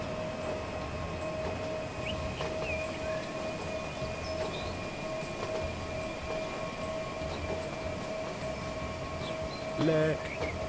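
A high-speed train in Transport Fever rushes through a station at about 290 km/h, a steady rumbling rail roar with a sustained tonal hum, faint squeals and a brief louder burst near the end.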